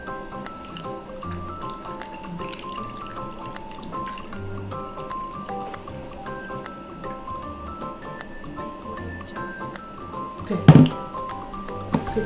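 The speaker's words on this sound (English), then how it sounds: "Fill it from that container there. Fill it up to 250 again." Liquid is poured from a container into a marked measuring jug up to 250, a soft trickling and dripping with small splashes, then a louder thunk near the end.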